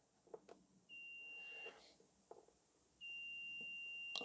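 Multimeter continuity beeper testing a wire on a Titan leaf blower ignition circuit: two steady, clear electronic tones, the first about a second long and the second sustained to the end, separated by light handling clicks.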